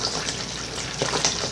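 Water pours steadily over a coco fiber substrate brick, a continuous close gushing splash with no talk.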